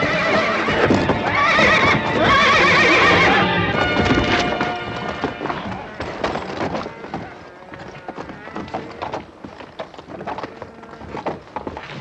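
A loud horse whinny rings out over clattering hooves, followed by heavy scuffling and stamping hooves on hard ground, with some voices mixed in, from the TV western Bonanza.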